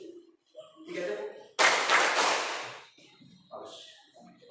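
A classroom of students claps together on a teacher's command in a religious education lesson, giving one dense, loud burst of claps that lasts about a second, with a teacher's voice speaking before and after it.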